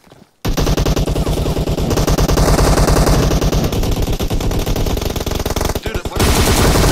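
Loud, rapid automatic gunfire fills a team deathmatch video game round, nearly continuous bursts close by with a brief silent moment near the start and a short dip before the shooting resumes.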